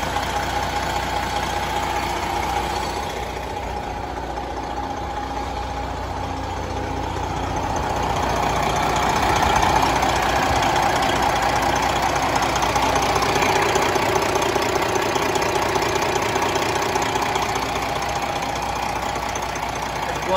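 A 2018 Freightliner Cascadia glider truck with a remanufactured Detroit 12.7 liter engine idles with a steady rumbling drone that swells slightly midway, heard up close with no talking.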